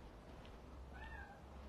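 A cat meows once in a garden, a faint thin mew rising over steady outdoor background noise, heard alone without talk.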